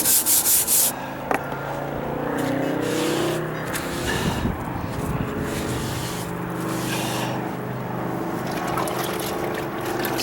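Continuous close rubbing of sandpaper roughens primer on a wooden deck stair step, a steady scratchy drone with brief louder scuffs, no talking.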